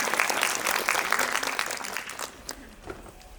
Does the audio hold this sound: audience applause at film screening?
yes